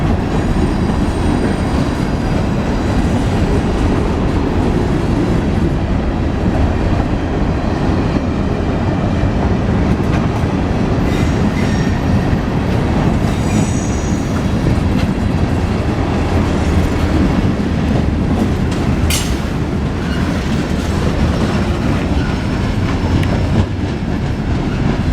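A northbound Norfolk Southern local freight train rolls past in Marion, Ohio, with a loud, continuous rumble and clickety-clack of railcar wheels, close and steady for the whole stretch, with a faint wheel squeal partway through.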